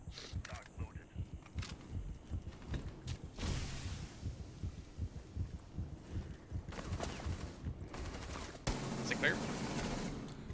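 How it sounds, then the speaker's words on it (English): Bursts of video game gunfire crackle through a busy mix, with rapid repeated shots and a louder stretch near the end, under talk and other game noise. "Dude, this gun's amazing."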